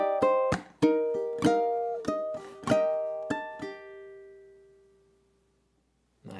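Ukulele plucking a short melody over two bars, clear close notes in steady rhythm with several ringing chords that fade out into silence.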